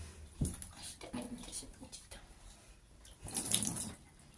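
Warm water runs and splashes while a cat is being bathed, with uneven bursts of pouring and patter that swell louder near the end, close by and without speech.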